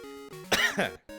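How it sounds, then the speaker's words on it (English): A single person clears their throat and coughs once, close and brief, with a voice heard just before and after. "coughing"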